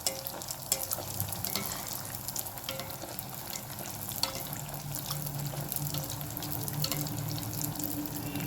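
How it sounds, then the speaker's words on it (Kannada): Neer appa batter cooks with oil in a pan, a steady, even sizzle and crackle running throughout at moderate level, close and continuous with no talk. "ಈಗ ಸ್ವಲ್ಪ ಎಣ್ಣೆಯನ್ನು ಅದರ ಮೇಲೆ ಹಾಕುವ."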